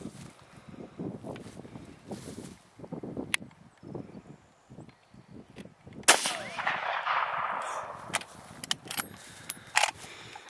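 A Lee Enfield No.1 Mark 3 .303 rifle fires outdoors, one sharp loud report followed by ringing echo and rustling handling noise, with quiet movement before the shot.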